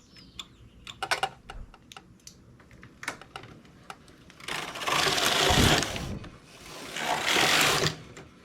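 A knitting machine working a ribbed top: scattered sharp clicks and taps, then two loud, sustained whooshing rattles as the carriage sweeps across the needle bed, close by with no talk.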